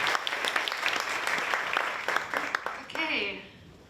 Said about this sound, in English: Will we give him a little bit of applause?